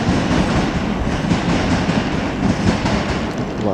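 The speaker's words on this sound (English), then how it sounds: "Track sounds are brilliant." Train wheels clattering over rail track at a station in Cambridge, a loud, dense, steady rumble with rhythmic clickety-clack close by, no voices.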